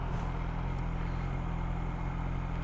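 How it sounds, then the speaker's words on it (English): BMW S1000XR motorcycle engine running steadily with a suspected cam chain rattle, a continuous low mechanical drone with a faint metallic ticking, heard close and without speech. "It definitely sounds like a cam chain."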